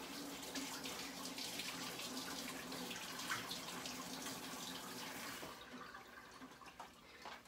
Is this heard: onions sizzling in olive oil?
no